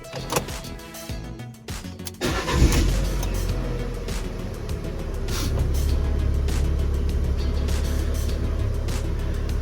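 A Fiat 500 1.2 engine cranks and fires after an oil service, preceded by clicks and clunks, then settles into a steady low idle that carries on to the end.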